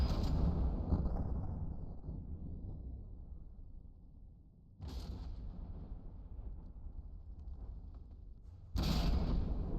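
Particle cannons fire in the video game From the Depths, producing deep, rumbling blasts that decay slowly. Two more sharp booms follow several seconds apart, loud and dense with low-end rumble.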